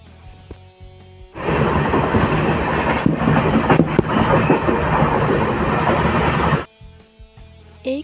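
Inside a moving passenger train, a loud, steady rumble with rattling carriage noise rises suddenly and holds for several seconds before dropping away, with no voices.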